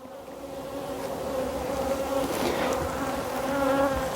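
Young honeybees buzz steadily as they lift off an open brood frame, a close, continuous droning hum that swells slightly toward the end, with no talking.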